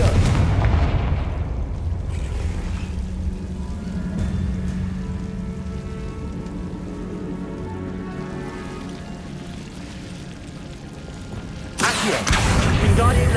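Fire spell explosions in the game Hogwarts Legacy, with a deep rumbling blast that decays into a long low crackling wash and then a second loud burst near the end.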